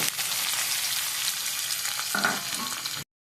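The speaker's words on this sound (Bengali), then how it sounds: "পেঁয়াজটা ভাজা হয়ে গেছে" Onions and potatoes sizzling in hot oil with black cumin and dried chillies, a dense, close, continuous frying hiss with a brief scrape of stirring near the end before it cuts off.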